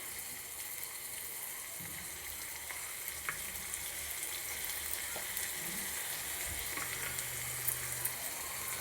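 Onions fry in a pan for a potato tamarind stew, giving a soft, steady sizzle and crackle with a few low thumps. It is fairly faint and runs throughout with no talk.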